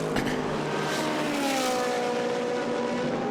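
A GT race car at Monza during an endurance series practice session roars past on the track, its engine note loud and sustained with a falling pitch as it goes by, with no speech.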